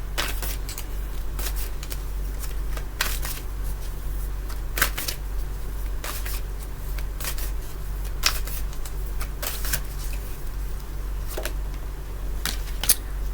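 Shadows and Light oracle cards shuffled by hand in repeated soft riffling bursts and flicks, close up, over a constant low hum, with no talking.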